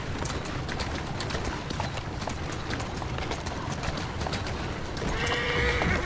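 A horse in Assassin's Creed Syndicate gallops with steady, rapid hoofbeats, then lets out a clear, high whinny near the end, loud and close with no talk over it.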